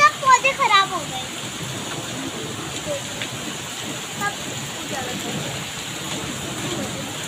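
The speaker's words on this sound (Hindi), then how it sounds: "ये बारिश हो रही है ना" Steady rain with hail hisses throughout, with a voice talking briefly at the start before the downpour carries on alone.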